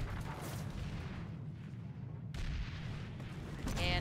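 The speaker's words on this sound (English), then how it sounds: "I'm just causing mass panic by shooting cannon." Cannon fire in the online war game PlanetSide 2 rumbles as dense, heavy booms and battle noise, with a sharp blast near the end, loud and continuous under the game's din.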